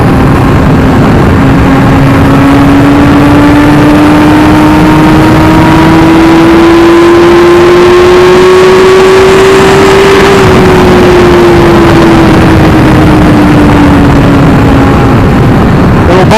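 A 2017 Suzuki GSX-R1000R engine hums steadily and loud, its pitch climbing slowly over several seconds, then easing back down as the throttle is eased off, with no sharp blips and a constant rushing background throughout.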